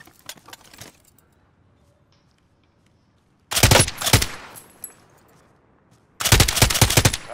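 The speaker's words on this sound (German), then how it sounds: "Irgendwo wird hier geschossen." Gunfire in Call of Duty: Modern Warfare: loud, close bursts of rapid automatic shots in two long volleys separated by quiet, with a short burst of clatter at the start.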